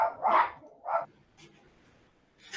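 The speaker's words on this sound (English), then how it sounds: "There goes Aunt Matilda, bark again" A dog barks twice in quick succession near the start, then a third sharp bark closes the short stretch, with quiet room noise between the barks.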